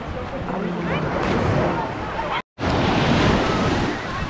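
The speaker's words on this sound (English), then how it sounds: "The water's loud." Loud ocean surf crashes and roars close by on a Hawaii shore, a constant wash of waves and wind with a brief dropout midway and voices faint beneath.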